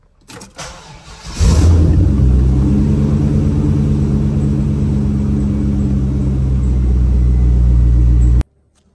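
A Corvette engine idles after starting, a steady loud low rumble that holds from about a second and a half in until it cuts off near the end, with a brief burst of handling noise before it.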